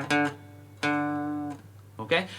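A guitar plays a song's riff as a few clear, ringing notes. A lifted finger cuts one note short, leaving a brief gap before the next notes are plucked. The playing is close and fairly quiet.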